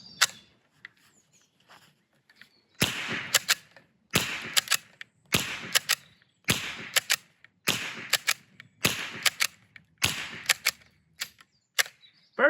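A ZOM 451 straight-pull rimfire rifle fires a string of about seven shots, each sharp crack followed by the clack of the bolt being cycled, in a steady rhythm at close range with no talking.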